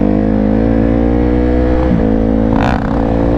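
A 450 dirt bike engine drones loud and close at steady revs, with a brief rise in pitch near the end.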